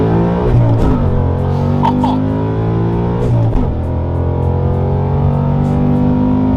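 A Whipple-supercharged Coyote V8 Ford Mustang accelerates hard and loud, its engine note climbing steadily, then dropping sharply at each of two quick gear shifts before rising again, with supercharger whine layered over the exhaust roar.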